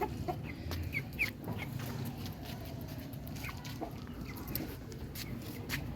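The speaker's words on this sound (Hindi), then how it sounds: "ये मुर्गी है कुड़क वाली" Soft, scattered clucks from a broody hen on a rooftop, over a low background rumble, with occasional short chirps from other birds nearby.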